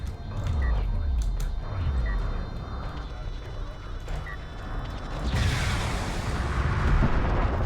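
Missiles exploding in a strategy video game match on a desert map, heavy rumbling booms and bursts running continuously and loud, with a bright crackling blast toward the end.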